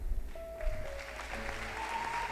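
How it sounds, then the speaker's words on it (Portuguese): Audience applause at a church dedication event, soft and somewhat distant clapping with faint tonal music running beneath it. "bem forte essas salvas de palmas para a família Cutane"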